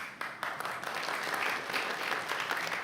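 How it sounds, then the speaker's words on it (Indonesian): Dense applause from a studio audience on a television news-talk program, loud and steady throughout with no pause. "aplaus dulu untuk Becky"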